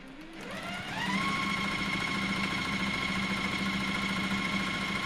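A sewing machine stitches pieces of a quilt block, pairing a teal print, starting up and settling into a fast, steady mechanical whir that runs continuously at close range with no talk.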